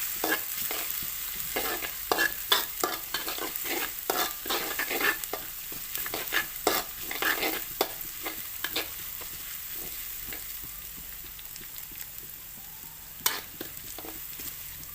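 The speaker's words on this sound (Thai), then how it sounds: "ใส่พริก ผัดพริกกับกระเทียมให้หอมนะคะ" Chili and garlic being stir-fried in a pan while cooking morning glory with canned fish, with steady sizzling and repeated scraping clinks of the utensil against the pan, close and fairly loud, no voices.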